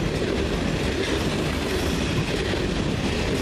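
A CN GMD SD40-2W diesel locomotive rolls past hauling a manifest freight train, a loud, steady rumble with continuous wheel and railcar clatter that fills the whole stretch.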